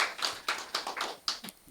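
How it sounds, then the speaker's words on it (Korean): Sparse clapping from a small audience at an award ceremony and sponsors' evening, a handful of distinct, irregular claps close by, with no voices over them. "박수 한번 주세요."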